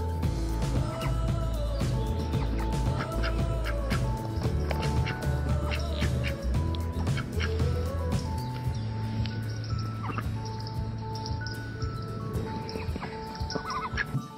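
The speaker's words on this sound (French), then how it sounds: "Des canards," A busy chorus of farmyard fowl, with ducks quacking alongside gobbling and clucking birds, continuous and moderately distant.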